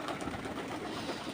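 Pigeons fed on paddy grain at a rural loft, with soft cooing and fluttering mixed into a steady busy outdoor background, moderately loud throughout.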